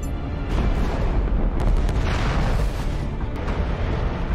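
Railgun firing and a blast aboard a ship in a science-fiction space battle episode, a sustained loud booming roar with rumbling bursts throughout, dense and unbroken, with no talk.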